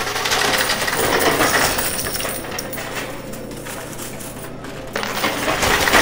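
Coins topple over in a high limit coin pusher, a loud, dense cascade of metallic clinking and rattling that keeps going throughout with a brief lull before building again.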